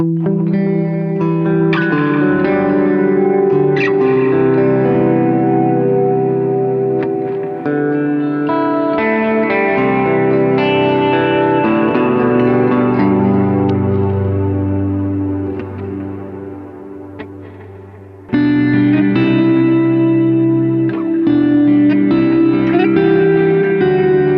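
Electric guitar played with heavy delay and big reverb, sustained chords and ringing repeated notes washing into long tails, loud and alone, with a brief dip before the playing swells back in.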